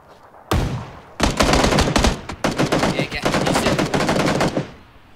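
Gunfire in the battle royale game PUBG: loud, close bursts of rapid automatic fire in several runs with short gaps between them, with no talk over the shots.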